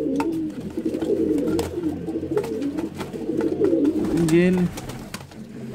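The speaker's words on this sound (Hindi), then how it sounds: "ये मेरे पास एक कबूतर है जी" Pigeons coo in low, rolling, repeated calls close by, layered over one another almost continuously, while someone briefly speaks and small clicks and rustles come from the loft.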